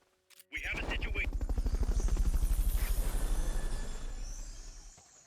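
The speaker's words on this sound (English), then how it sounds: "Fulton recovery subject confirmed onboard helicopter" A helicopter in Metal Gear Solid Peace Walker thumps with fast, steady rotor beats that swell loud and close, then cut off, after a brief short tone at the start.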